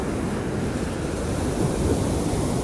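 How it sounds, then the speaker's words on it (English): Strong surf breaking on a beach in Jacksonville Beach, Florida, on a foggy December morning, a loud continuous roar of waves with wind buffeting the microphone. "there's really, really strong waves and rip currents going on out here"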